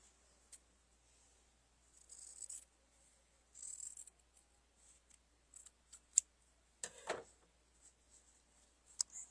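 Scissors cut fabric for a quilted cactus flower table topper, quiet scattered snips and rustles with pauses between them in a still room.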